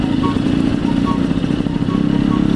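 A Yamaha RX-King clutch motorcycle's engine runs steadily at close range, a low, throbbing two-stroke idle with a light rev held throughout, loud and continuous.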